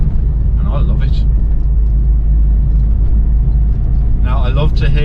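A 1985 Ford Fiesta 1.1 Popular Plus drives along with a steady low engine and road rumble, while a voice speaks over it at the start and again near the end.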